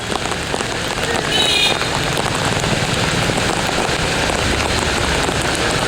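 Heavy, unbroken monsoon rain pours in Mumbai, a dense steady roar of water hitting surfaces with no break, and a faint brief tonal sound early on.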